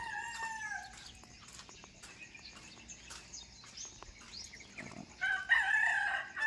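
A rooster crows in a quiet morning setting, its call faint at first and then louder and brighter near the end, with scattered soft clucks and background noises.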